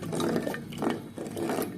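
Pearl millet porridge, soaked grain boiling in a pot, is stirred with soft wet sloshing and scraping strokes in a steady rhythm, close and moderately quiet with no talk.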